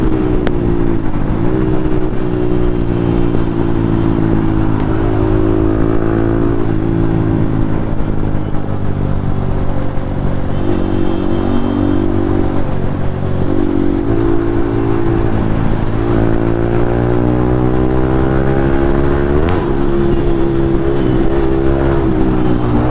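A Yamaha MT-15 motorcycle fitted with an Akrapovic exhaust races on the street, its engine loud and continuous throughout, revving up and down through gear changes, with no talk.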